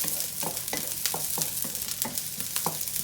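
Mussels with garlic and onion sauté in a hot pan with a steady sizzle, punctuated by regular scraping stirs from a utensil, close and clear with no talking.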